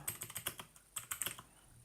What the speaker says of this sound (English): Type email